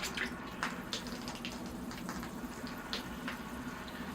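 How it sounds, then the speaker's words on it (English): Water poured from a can or hose onto freshly repotted soil around a firethorn or almond bonsai, a steady soft splashing with small spattering bursts, fairly faint and close, with no talking. "Okay, here I go with the water."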